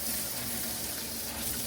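Cold water running from a tap into a sink during hand-washing of a wig, a steady soft hiss and splash with no talk over it.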